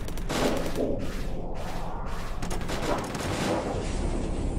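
Ship weapons trading alternating fire in the space combat game Starsector, a dense, continuous barrage of rapid gunfire bursts with heavy thuds, loud and sustained with no talk.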